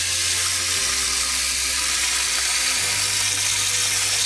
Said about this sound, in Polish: Najpierw nalewamy wodę.